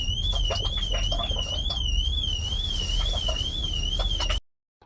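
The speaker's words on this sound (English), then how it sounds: "The van alarm goes off" A parked van's alarm wails in a steady, fast-warbling electronic tone, loud and close, sounding continuously for about four seconds before cutting off abruptly.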